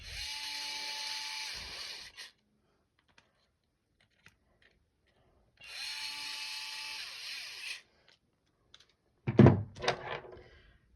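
A power driver runs bolts down on an O.S. model engine in a crisscross order, giving two whirring bursts of about two seconds each, followed by a close clunk and light tool handling.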